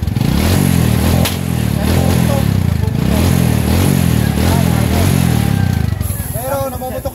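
A Kawasaki Barako 175 motorcycle idles close by with an uneven, popping and chugging beat that runs steady throughout, while people talk over it.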